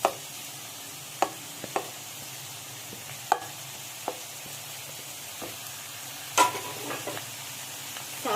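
Vegetables, carrots among them, stirred in a pan for a vegetable roll filling, with scattered scraping clicks and a few sharper knocks over a soft steady sizzle, close and alone.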